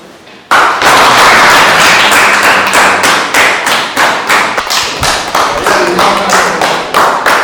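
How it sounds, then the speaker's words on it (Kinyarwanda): A room of high school students bursts into loud applause for the top-scoring classmate, steady clapping that swells suddenly and continues without pause for several seconds. "mumukomere amashyi"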